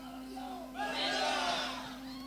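At the launch of the Putra Mario FC football team for Indonesia's Liga 3, held on an open field, a group of voices bursts into a loud, unified team yell after a quieter moment, then holds the shout steadily.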